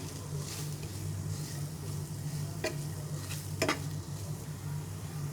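Spice masala for a homemade chicken pizza fries in a pan with a steady, soft sizzle, and two brief scraping stirs stand out midway. No one speaks.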